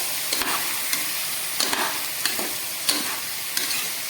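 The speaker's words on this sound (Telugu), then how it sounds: "వీటిని కొద్దిసేపు బాగా ఫ్రై అవ్వనివ్వాలి." Potato pieces frying in a pan for veg biryani: a constant bright sizzle broken by regular spatula scrapes and knocks roughly every half second, close and alone.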